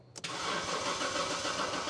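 A 1954 International farm truck engine cranks briefly and catches, then settles into a loud, rough, steady run close by.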